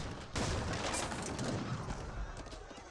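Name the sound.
gunfire from obelisk guns in video game Age of Empires 3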